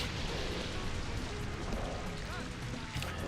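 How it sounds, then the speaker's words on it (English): Rain from the Rain Dance move in the Pokémon Colosseum video game hisses as a steady, dense downpour with a low rumbling underneath, loud and continuous throughout. "They both use Rain Dance."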